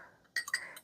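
A blending fork stirs crumbs with cinnamon in a bowl while making a no-bake raspberry cheesecake crust. There are a few quick, light metallic clinks against the bowl, close and quiet.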